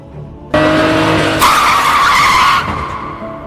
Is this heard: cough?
no